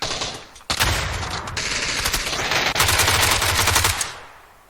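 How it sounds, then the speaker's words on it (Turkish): Loud, close automatic gunfire from the video game PUBG: dense rapid bursts of shots running for several seconds, broken by one brief pause, then cutting off and fading. "bu beni taramaya başlıyor ve ben ani bir refleksle onu vuruyorum"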